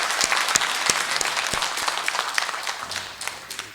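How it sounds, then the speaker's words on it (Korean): Applause from a church congregation at Sunday Mass greeting visiting tourists: a steady wash of many hands clapping together, moderately distant and reverberant, tapering off near the end. "우리 이분들 환영의 박수를 보내주십시다."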